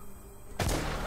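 A single abrupt gunshot in Infestation: Survivor Stories, a sudden loud crack with a booming tail that cuts in after a quiet lead-in.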